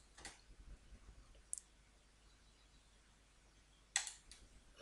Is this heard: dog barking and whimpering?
no